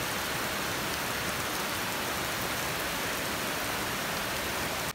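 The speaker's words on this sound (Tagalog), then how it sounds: "Tapos medyo malamig ngayon. Kasi umuulan." Steady rain falls outside, a dense continuous hiss of drops on surfaces with no breaks or voices, loud and unvarying throughout.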